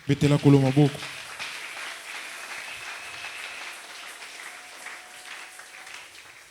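A church congregation applauds and cheers in a brief, loud burst of clapping and voices, then settles into a softer murmur with scattered claps.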